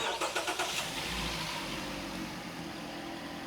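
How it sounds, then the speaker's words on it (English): A car engine cranks with several quick rhythmic starter pulses, then catches and settles into a low steady idle during variable valve timing diagnostics, fairly quiet and with no talking. "All right, Corey, you can start the vehicle for me,"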